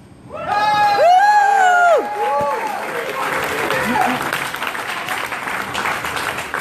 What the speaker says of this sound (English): Clap it up for the brother, please